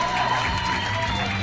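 A crowd at a powerlifting European championship in Eger cheers and applauds after a successful lift in the men's over 107 kg class, a steady, dense roar of voices and clapping filling the hall.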